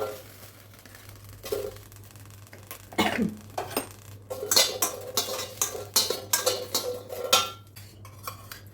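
A pan is set on a lit stove and green chillies go in for coconut chutney, with a scattered series of sharp metallic clinks and clatters of cookware and utensils, moderately close, and a low steady hum underneath.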